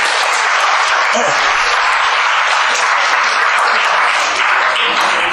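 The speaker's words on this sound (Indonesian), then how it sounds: "Tepuk tangan buat Ibu Dokter" An audience gives a doctor loud, sustained applause, a steady dense wash of many hands clapping throughout with no pauses.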